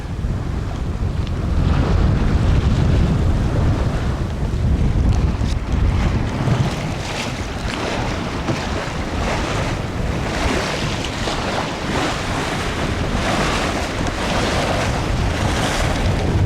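Mingming II, a sailboat, making about 5.5 knots under self-steering gear, with steady loud wind buffeting the microphone and water rushing and splashing along the hull throughout.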